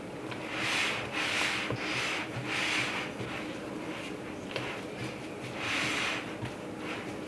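A whisk works flour into gluten free cookie dough in a bowl, making soft rhythmic scraping swishes that swell and fade in repeated strokes, close and fairly quiet with no talk.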